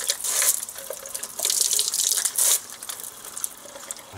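A syringe is flushed under a running tap at a sink while purging Canon inkjet cartridges, with water splashing and gushing in loud bursts close to the mic.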